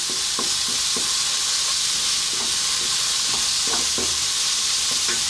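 Ground coriander and garam masala sizzle in a hot pan for prawn curry, a steady loud hiss broken by soft, irregular scraping taps of stirring, with no voices.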